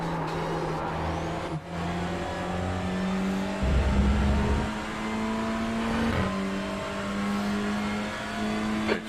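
Race car engines drone and rev in iRacing, a steady near engine tone dipping and rising through gear changes, with a brief deeper roar in the middle.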